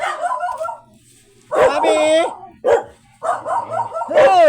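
Several dogs bark at a home during an afternoon snack break, with sharp, loud bursts of barking that rise over people chatting nearby.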